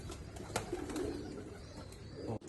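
A racing pigeon, numbered 19, with other pigeons at a loft, producing soft cooing and a few sharp flutters or taps over a steady low background hum, with no voices.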